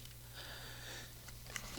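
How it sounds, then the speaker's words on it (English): A loud, close sneeze bursts out at the very end, preceded by a few faint sniffs and breaths in a quiet room. "now I think I gotta sneeze"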